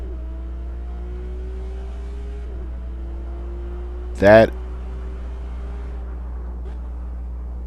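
A single sharp, high-pitched squeal bursts out during a car's upshift in a console sim racing game, standing out briefly above a steady, quiet engine drone while a voice speaks.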